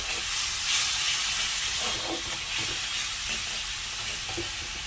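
Chilli powder, coriander and cumin powder, salt and a splash of water sizzle and bubble in a hot pan, a steady close frying hiss with soft stirring scrapes throughout.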